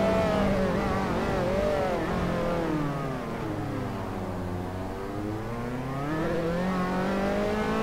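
Open-wheel Formula 3 race car in Assetto Corsa accelerating out of the final corner at the Norisring, engine note rising and falling through gears in a steady, loud whine with a slight dip mid-run.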